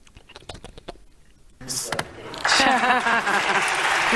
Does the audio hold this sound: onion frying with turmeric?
no